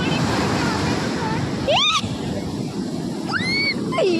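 Sea waves washing onto the beach at Puri, a steady loud surf roar throughout with whistles and children's voices over it.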